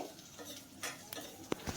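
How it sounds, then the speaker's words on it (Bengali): Bitter gourd pieces, marinated beforehand, frying in a pan on high flame, giving a faint low sizzle broken by a few sharp stirring and utensil clinks against the pan. "করলাটাকে 2-3 মিনিট হাই ফ্লেমে ভেজে নিতে হবে"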